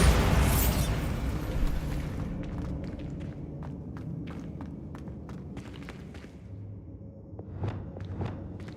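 Bombarda spell blast in the video game Hogwarts Legacy, a loud booming explosion at the start that decays into rumbling debris and scattered clicks and thuds.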